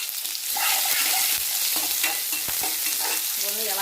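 Onions and curry leaves sizzle in a hot pan while a utensil stirs them, giving a bright frying hiss broken by scraping clicks, close and steady.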